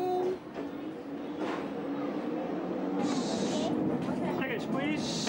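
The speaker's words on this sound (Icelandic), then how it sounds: "Og þá fer lestin af stað." A train in the Teletubbies sets off, with a steady rumbling run and loud bursts of hiss partway through and again at the end, while a voice talks over it.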